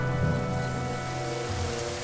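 Soft, steady rainfall in the video game The Banner Saga 2, a gentle hiss over a quiet sustained musical drone, with no voices.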